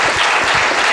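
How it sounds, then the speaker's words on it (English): A crowd applauding steadily at a book launch, dense clapping filling the whole moment at close range with no voices over it. "Let's give him another round of applause."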